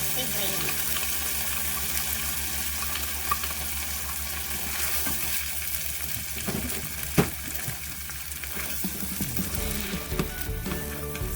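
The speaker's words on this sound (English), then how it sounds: "Sizzling." Tomato sauce sizzles and fries steadily in a pan with a few stirring clatters, continuous and moderately loud throughout.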